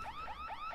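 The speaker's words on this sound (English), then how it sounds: "There's an alarm gone off, which is very annoying." An alarm in the horror video game Araya wails with a rapid, repeating up-and-down electronic whoop, steady and fairly loud with no talk over it.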